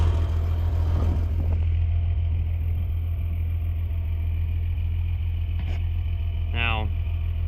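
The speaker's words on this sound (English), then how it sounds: "we're using such a big tractor because we've got a hill to pull" A big farm tractor pulling hay wagons uphill drones with a steady, loud low engine rumble that persists throughout, while a person talks over it close to the microphone.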